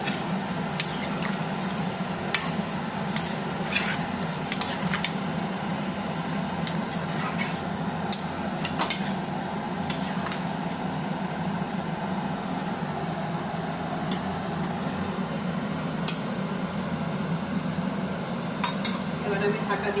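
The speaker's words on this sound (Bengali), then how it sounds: "ভালো করে মাছগুলোর সাথে নাড়াচাড়া করে মিক্স করে নেব।" Salted hilsa fish stirred with water in a metal cooking pot, giving steady scraping and clinking with occasional sharp utensil taps against the pot throughout.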